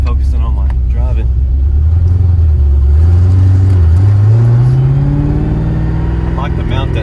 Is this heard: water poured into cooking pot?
no